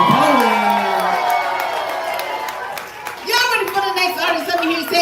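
A crowd at a live poetry show cheers, whoops and claps for the poet, a loud wash of shouting and applause that dips briefly then surges again, with a host's voice calling out over it.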